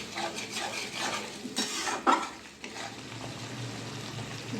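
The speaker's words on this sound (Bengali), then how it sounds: "দইটা আমি ভালো করে মিশিয়ে নেব মশলার সাথে" Whisked yogurt stirred into fried spice masala in a pan for Bengali doi katla, with close scraping stirs and soft sizzling, a sharper utensil knock midway, no talk.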